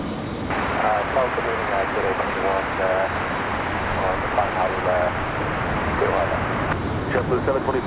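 American Airlines flight 2615 from Charlotte arrives at Raleigh-Durham, its steady engine roar filling the whole stretch at moderate level while voices talk over it.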